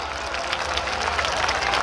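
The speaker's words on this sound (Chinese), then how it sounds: "来给他热情的掌声好不好？" Crowd clapping at an outdoor jazz festival in a city plaza in Taichung, a continuous, even spatter of applause from a large audience at moderate loudness, without any talking over it.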